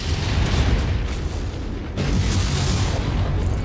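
A missile explodes in a mech combat video game, a loud, sustained rumbling boom with a second heavy blast hitting about halfway through, all near and dense with no talk over it.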